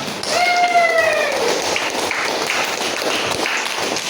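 Students in a classroom clap together, a dense, even burst of applause filling the room at close range and holding steady for about four seconds, with a brief squeaky tone near the start.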